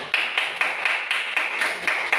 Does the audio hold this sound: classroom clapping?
yes